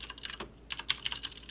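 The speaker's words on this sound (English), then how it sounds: "somebody's typing in is really distracting me" Rapid clacking of computer keys as someone types on a keyboard, two quick bursts of faint, close keystrokes with a brief pause between them.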